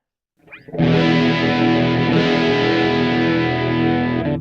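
Electric guitar played through an Ibanez PDS1 distortion pedal with the distortion turned down slightly, a single sustained chord ringing loud and thick after a brief pick noise, holding steady until the end.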